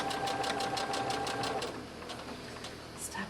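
Close, rapid whirring of a sewing machine running a straight stitch along hook and loop tape on a doll's dress; a fast even pulse for about a second and a half, then the motor eases off into quieter handling noise.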